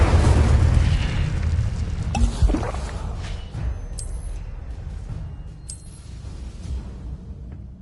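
Incendio fire spell cast in Hogwarts Legacy: a loud, rumbling fiery burst up front that fades into a lingering crackling roar, with brief bright magical chimes near the end.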